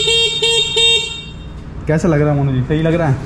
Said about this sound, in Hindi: हॉर्न भी कड़ाका है, कड़ाका हॉर्न है